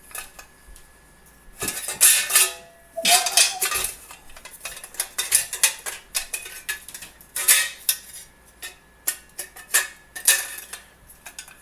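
Small metal computer screws rattle and clink in bursts as a hand rummages through their container, close and fairly quiet, with irregular pauses between the jangling scoops.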